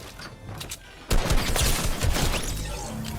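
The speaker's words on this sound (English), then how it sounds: "You can start shooting your opponent, right?" Gunfire from shooting an opponent in the video game Fortnite, a sudden loud burst of rapid shots after a quieter opening second, continuing densely to the end.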